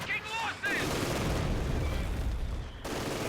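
Gunfire during a battle in the video game Company of Heroes 2, a dense, rumbling burst of rapid shots and booms running for a few seconds at moderate distance, with brief talk at the start.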